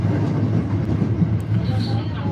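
A JR train passes through Kobe station with a loud, steady rumbling roar of wheels and motors, close by and continuous, while speech is mixed in underneath.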